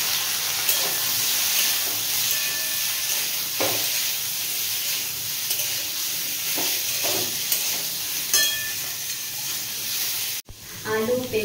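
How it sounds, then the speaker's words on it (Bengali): Potato, papaya and carrot pieces fry in a pan with a loud, steady sizzle and hiss, broken now and then by a few soft scrapes of stirring. "আলু পেঁপে গাজর সব হালকা করে ভাজা হয়ে গেছে"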